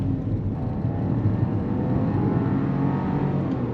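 Heard from inside the cabin, a 2025 Buick Envista Avenir SUV accelerates with a steady low engine drone and road rumble, moderately loud, with no talk.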